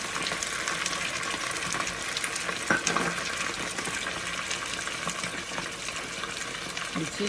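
Chicken and garlic-ginger paste fry steadily in a hot pan with stirring scrapes and a constant sizzle, close up, with no voices.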